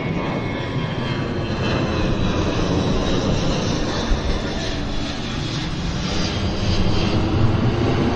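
A Flair Airlines jet airliner taxis onto the active runway at Vancouver International Airport with a steady, loud engine roar and rumble that holds unbroken for about eight seconds and swells slightly near the end.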